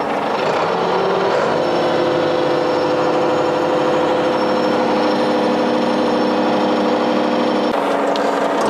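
Ford 7610 tractor engine running during a test run, a loud steady diesel clatter with a constant rumbling drone that holds evenly before shifting briefly near the end.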